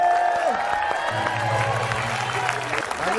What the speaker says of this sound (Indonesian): Tepuk tangan buat tamu-tamu kita sekali lagi.